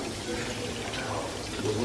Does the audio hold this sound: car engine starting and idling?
no